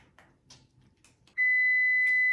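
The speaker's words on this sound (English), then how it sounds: "as you can hear, timer's going off, so it's time to go check our bread." A kitchen timer for banana nut bread baking in an oven starts beeping, a loud steady electronic tone that holds continuously after quieter kitchen clatter and rustling.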